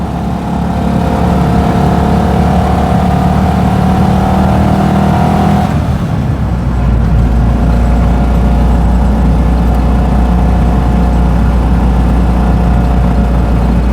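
A 1959 BMW Isetta 300 microcar on the move, its small engine droning loudly and steadily from inside the cabin, with a clear change in engine note partway through as it shifts or eases off.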